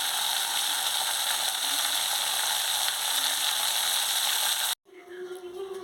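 Bottle gourd seeds frying in a pan, giving off a steady close sizzle that stops abruptly near the end and is followed by quieter kitchen noise.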